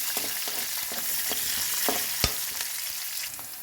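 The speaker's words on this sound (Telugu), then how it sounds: "ఉల్లిగడ్డ, పచ్చిమిర్చి, కొంచెం అల్లం మూడు వేసుకోవాలి" Onion, green chilli and ginger fry in a pan for a leftover-upma tiffin, giving a loud continuous sizzle broken by frequent stirring scrapes and clinks, close up with no talk.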